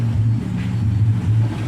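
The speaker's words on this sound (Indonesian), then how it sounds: "Ini mesin motor kita hidupkan dulu" A Yamaha Mio J motorcycle engine idles close by, a steady low drone with an even pulse and no talk over it.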